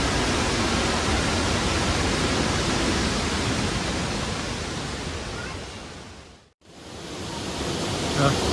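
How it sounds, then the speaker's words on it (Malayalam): Meenmutti waterfall at Kallar roars as a dense, continuous broadband rush of falling water, close and loud, dipping briefly near the end before returning. "ഇതാണ് വെള്ളച്ചാട്ടം,"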